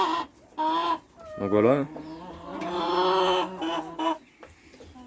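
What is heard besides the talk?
laying hens clucking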